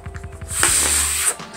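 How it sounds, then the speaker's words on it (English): A sustained breathy puff of air blown into a folded paper origami tulip, a steady hiss lasting about half a second to a second, close and fairly loud, preceded by soft rhythmic handling sounds. "you're gonna blow that open"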